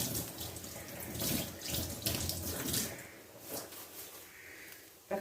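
Tap water runs steadily into a kitchen sink while curry leaves are rinsed for a clam stir-fry, a continuous close splashing hiss with no talking.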